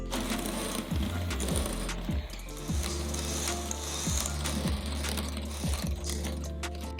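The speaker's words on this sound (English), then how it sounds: "now I'm going to mix this cream cheese to make it fluffier and lighter" A stand mixer beats cream cheese for a baked chocolate cheesecake, giving a steady loud motor whir with a rhythmic clicking, thumping churn about once a second throughout.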